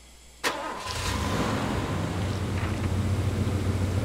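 Engine of a mounted-turret technical truck in the video game Far Cry 2 starting with a sharp crank, then settling into a steady, loud, close idle rumble that runs on alone.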